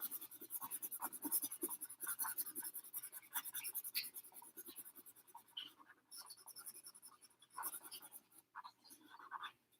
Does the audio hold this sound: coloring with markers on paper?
yes